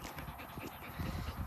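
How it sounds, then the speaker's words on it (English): A pet fox pants quickly and rhythmically at close range, with short breathy puffs that grow louder toward the end. "He is a fox."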